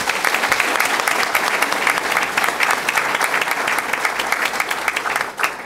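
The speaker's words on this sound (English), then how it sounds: "Big round of applause." Sustained applause from a large crowd, steady dense clapping that fills the room for several seconds before easing slightly at the end.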